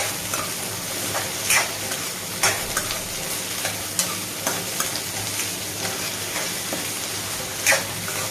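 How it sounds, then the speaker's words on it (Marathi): Potatoes, val bean pods and other vegetables sizzle in oil in a pan, a steady frying hiss with occasional louder pops and spoon scrapes as the mix is stirred. "या भाज्या थोड्या तेलामध्ये परतून घेतल्या तर इझी होतं."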